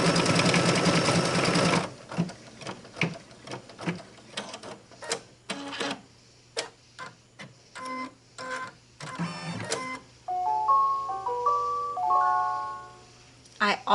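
A computerized embroidery machine stitches the outline of a gnome design: a dense rattling run of stitching, then scattered ticks and short bursts, ending in a chiming beep melody near the end, with a voice talking in between.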